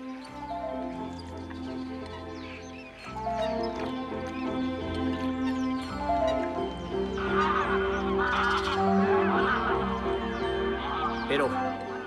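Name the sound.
greylag geese honking in Doñana National Park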